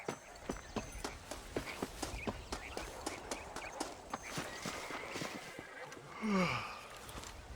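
Horse hooves clip-clopping at a steady walking rhythm in Red Dead Redemption, a series of close, even footfalls with a short louder snort or breath near the end.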